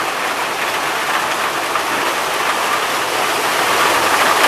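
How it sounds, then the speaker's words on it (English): Heavy rain pours outdoors in a dense, unbroken hiss, loud and close, holding steady throughout with no voices. "rain is really picking up out here"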